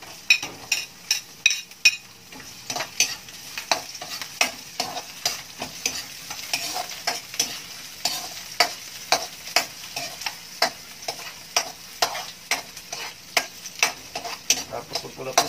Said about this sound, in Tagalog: Lagay natin yung bawang.